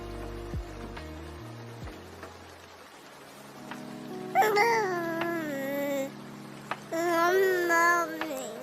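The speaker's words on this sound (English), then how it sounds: "Life still goes on even when it's raining." Steady rain falls indoors-quiet throughout, a soft continuous patter beneath a few low tones early on, with a baby's babbling and crying cries rising in the second half.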